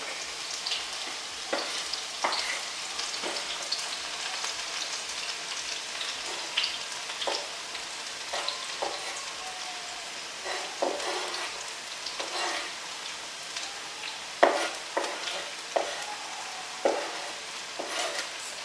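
Branzino fries in a hot pan with shallots while a wooden spoon stirs it, giving a steady close sizzle broken by frequent scraping and clacking stir strokes over about eighteen seconds, with no voices.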